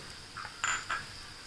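A spoon stirs turmeric and salt in a cooking pan, giving a few faint, light metallic clinks in quick succession against a quiet background.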